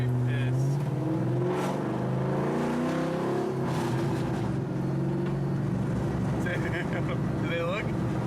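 A straight-piped Ford Mustang GT cruises with a loud, steady low exhaust drone that swells and eases as it revs, with people talking over it inside the car.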